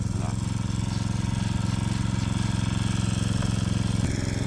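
Water pump engine running steadily up close while pulling mud and floodwater from a hand-drilled well, giving a continuous loud, rhythmic chugging drone with no pauses and no talk.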